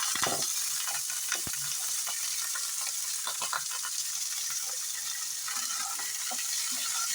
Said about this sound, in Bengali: তো দেখো আমি কড়াতে কাঁচা লঙ্কা, সরষে ফোড়ন দিয়েছি, হলুদ, আমড়াগুলো দিয়ে দিলাম।